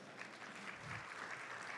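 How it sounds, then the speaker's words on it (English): An audience at a council on legislation meeting gives a round of applause, a dense, steady wash of many hands clapping that holds for the whole moment at an even level. "Give yourself a round of applause"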